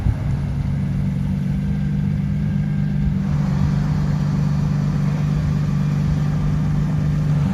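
A camouflage-wrapped Lamborghini Revuelto drives past, a loud sustained engine drone that shifts tone partway through as the car passes close by.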